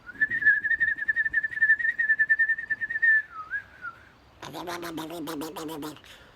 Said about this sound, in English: and I whistle